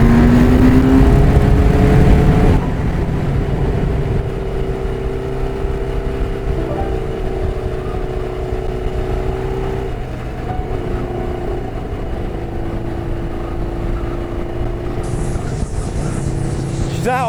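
A 1983 Suzuki Katana, its exhaust manifold bolt working loose, rides along a road with a steady droning engine hum and shifting pitch. A louder burst opens the stretch, and wind and road noise run underneath.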